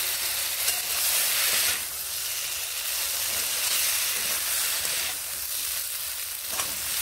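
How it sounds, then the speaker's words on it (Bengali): Pre-fried eggplant sizzles in a hot pan with oil and spices, making a loud, steady, close frying hiss with small surges and no voices. "এবার এখানে আমি দিয়ে নিচ্ছি ভেজে রাখা বেগুনগুলোকে"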